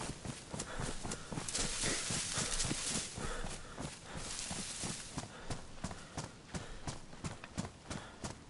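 Several horses moving in the survival game DayZ, with a steady run of hoof clops and footfalls that stay loud and close throughout, over a dense, noisy background.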